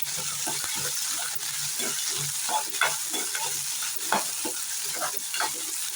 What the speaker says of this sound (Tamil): பூண்டு வெங்காயம் இஞ்சி கருவேப்பிலை சேர்த்துக்கலாம் கொத்தமல்லி தலை நல்லா சேர்த்து வணக்கி விட்டுக்கலாம்